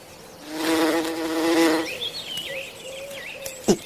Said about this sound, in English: This is a leafcutter bee.